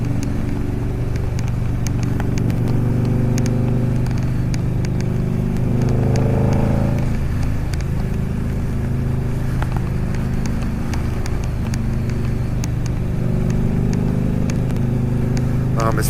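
A Harley-Davidson V-Rod motorcycle being ridden in Alaska, its engine droning steadily with a brief rise in pitch partway through, heard continuously alongside road and wind noise.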